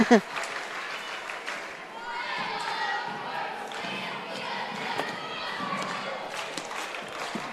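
Basketball crowd at a Sheldon Clark Lady Cardinals girls' game cheering along with the cheerleaders, a steady roar of voices and clapping in a gym, with thuds from the court and a commentator talking over it.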